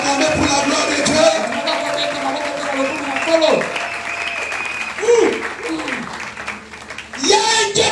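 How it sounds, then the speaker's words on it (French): A church congregation at a Sunday service claps and cheers, with applause rising and falling beneath a preacher's amplified voice and occasional shouts from the crowd. "Est-ce que quelqu'un peut acclamer pour la gloire de Dieu?"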